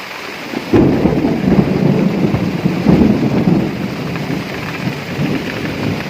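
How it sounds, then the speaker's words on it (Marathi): Heavy rain pours steadily over a farm at rice-harvest time, with loud rolls of thunder swelling on top of the constant downpour. "आता बघा किती पाऊस आला आहे जोरदार परत विजा पण चमकायला लागलेल्या आहेत"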